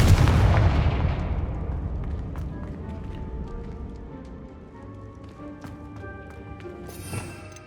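A Confringo fire spell cast in Hogwarts Legacy bursts with a loud explosive blast that decays into a rumbling tail, with faint magical chimes and a brief crackle later.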